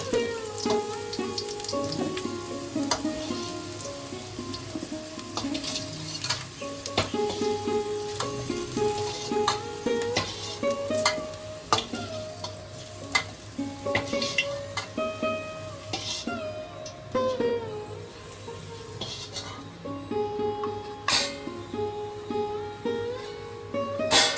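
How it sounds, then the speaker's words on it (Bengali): Potatoes frying in oil until reddish-brown, a steady close sizzle with bright crackling bursts running alone throughout. "এদিকে আলুটাও আমাদের লাল করে ভাজা হয়ে গেছে।"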